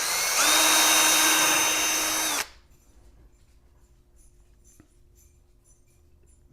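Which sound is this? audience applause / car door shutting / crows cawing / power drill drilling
power drill drilling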